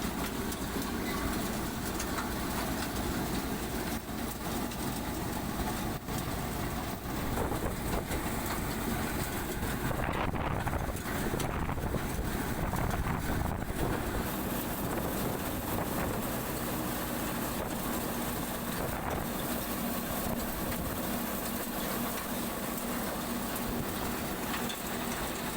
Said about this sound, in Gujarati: અને જો ફૂકડી કઈ રીતે કામ કરે.